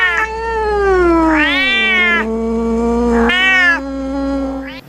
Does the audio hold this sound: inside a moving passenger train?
no